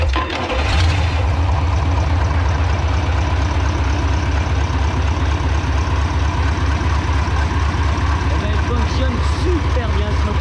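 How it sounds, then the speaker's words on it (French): Deutz MAN Kat1 diesel engine, restored and repainted, idling loudly and steadily with a dense low rumble after a brief start; someone speaks over it. "on va démarrer le moteur"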